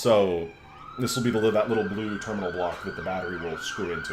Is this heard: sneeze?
no